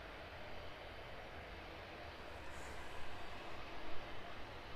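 An aircraft passing by East Midlands Airport gives a faint, steady engine rumble that swells a little as it goes by.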